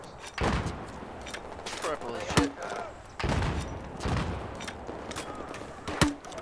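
Video game gunfire comes in several sharp bursts and scattered shots over a few seconds, mixed with rumbling game noise, while people talk excitedly throughout.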